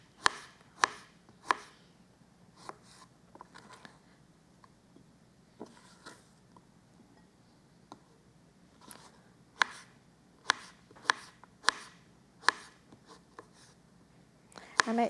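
A knife slices zucchini squash into thin rounds on a cutting board, making crisp, sharp chops. They come in irregular bursts, some quick and close together, with quiet pauses between, and a faint voice murmurs in the background.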